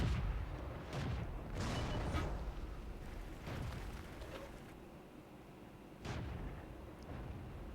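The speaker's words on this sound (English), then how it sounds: "So artillery's having a go, but artillery's never going to hit him here." Artillery and gunfire booming in the World of Tanks game, a series of broad, rumbling blasts at moderate distance, with sharper reports near 1, 1.6, 3.5 and 6 seconds over a steady noisy battle backdrop.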